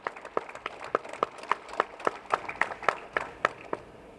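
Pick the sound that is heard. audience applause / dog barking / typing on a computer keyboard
audience applause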